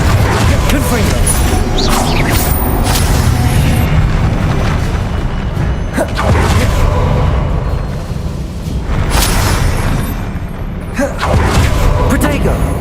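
Confringo fire spell blasts in Hogwarts Legacy crash and boom repeatedly over a rumbling battle din, several sharp bursts spaced across the stretch, loud and near, with a voice talking intermittently underneath.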